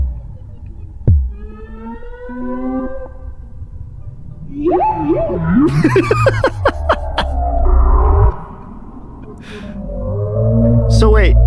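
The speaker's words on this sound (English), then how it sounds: "Is this humpback whale sound through Morphogene?" Humpback whale song processed through a Morphogene module: long, wavering moans and upward sweeps, then a dense, glitchy burst of chopped, stuttering fragments over a deep droning hum, swelling again near the end.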